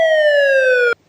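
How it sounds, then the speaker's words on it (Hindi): Police siren sound effect: one loud, steady wailing tone held for almost a second, then cut off abruptly into silence. "दूर से पुलिस की सायरन की आवाज से सुनाई दी।"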